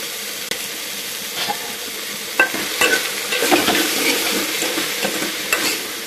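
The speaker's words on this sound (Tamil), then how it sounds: "பீக்கங்காய் போட்டு நல்லா எண்ணெயிலேயே வதக்கி விடுங்க" Ridge gourd sautéing in oil in a pan, a steady sizzle and frying hiss with a few stirring clatters and scrapes, fairly close, no voices.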